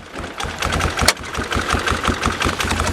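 A second-generation Mitsubishi Eclipse engine running rough, an uneven, loping idle with irregular knocking pulses and a sharp clack partway through, close and fairly loud.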